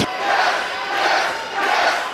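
A WWE NXT arena crowd roars in a rhythmic chant, swelling and dipping in regular surges, loud and massed, with no single voice standing out.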